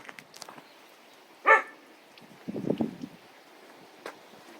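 A dog in a rural village in Yeongdong County, North Chungcheong, gives a single short, fairly close bark. Faint rustling and low outdoor noise follow it, and no one speaks.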